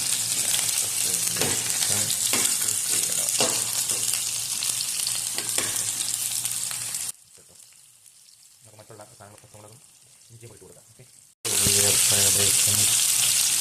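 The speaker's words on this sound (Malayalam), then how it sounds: "നല്ലപോലെ ഇളക്കണം കേട്ടോ" Egg upma frying and being stirred in a pan gives a loud continuous sizzle with scraping strokes, broken by a quieter stretch of softer clatter before the sizzling returns full force.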